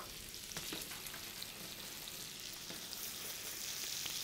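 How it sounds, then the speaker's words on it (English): Bacon hits foaming hot butter in a pan for a garlic and onion soup, producing a soft, even frying hiss that stays low and constant. "butter's hot, add your bacon."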